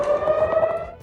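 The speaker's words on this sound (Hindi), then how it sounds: "इस्राएल की राजधानी तेल अवीव और इमरजेंसी सायरन की तेज आवाज" An emergency siren sounds in Tel Aviv, a loud, steady, close tone that wavers slightly.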